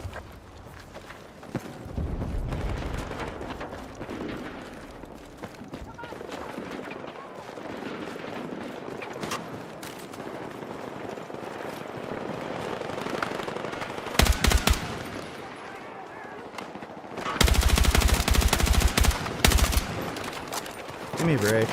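Video game gunfire rattles in rapid bursts of shots, with louder volleys near the middle and a heavy sustained burst later, over steady background game noise.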